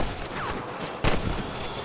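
Gunfire in the Red Dead Redemption video game, a rapid burst of shots with a sharper, louder crack about halfway through, close and busy against steady background game noise.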